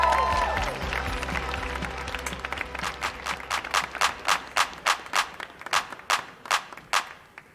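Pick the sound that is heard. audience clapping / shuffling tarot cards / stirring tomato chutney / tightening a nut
audience clapping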